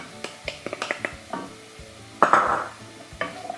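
Onion, garlic and carrot are stirred in oil in a pot, giving a run of light close clicks and scrapes from the spoon and one short louder sizzling swish partway through.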